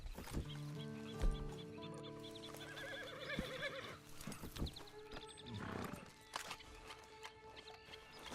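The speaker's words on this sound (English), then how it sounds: "And you better get on this horse." A horse whinnies amid clopping hooves and farmyard clucking in Red Dead Online, with layered game-style ambience and a few sharp thuds throughout.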